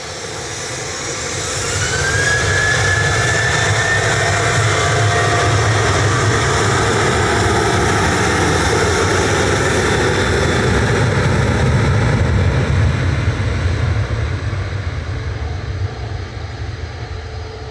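A Ryanair Boeing 737-800 departing Manchester Airport for Tenerife gives a loud, sustained jet engine roar that swells in over the first seconds, holds steady, then eases slightly toward the end.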